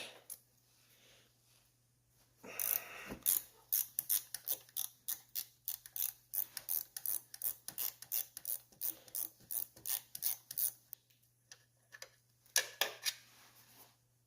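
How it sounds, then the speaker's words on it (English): Small ratchet wrench loosening 8 mm bolts on a cheap aftermarket carburetor for a Honda ATC three-wheeler, giving close, quiet bursts of rapid clicking ratchet strokes in a steady rhythm with short pauses, without any talk. "Those are both 8 mils. I like to use these little ratchet wrenches for it."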